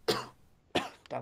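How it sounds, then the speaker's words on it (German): Three sharp coughs from a man: a strong one near the start, another midway, then a shorter one right after, close to the microphone with quiet gaps between. "Oh, Verzeihung, muss mal wieder husten."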